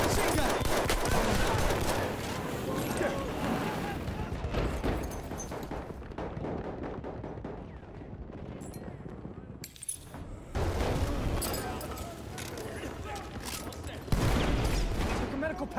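Machine gun fire in a video game, with dense, rattling bursts of shots and booms that run almost nonstop, briefly dropping out before resuming at full loudness while a voice calls out.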